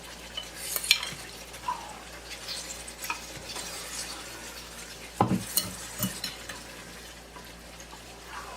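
Basmati rice being stirred in a pot on the stove for biryani, with soft scraping and clinking of a utensil against the metal and a light background sizzle, a few sharper knocks standing out, no voices.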